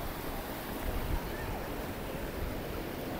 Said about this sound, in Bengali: জাস্ট ঢেউগুলো দেখুন, কি সুন্দর ঢেউ